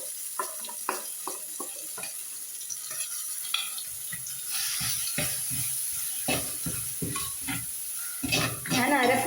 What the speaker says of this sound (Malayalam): നമുക്ക് അരപ്പ് ഇതിലേക്ക് ചേർത്ത് കൊടുക്കാം.